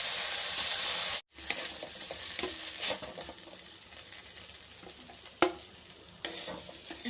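Bitter gourd fries in a pan with a steady close sizzle after a loud hiss and a sudden cut, and a few sharp scrapes and clacks of stirring stand out above the oil.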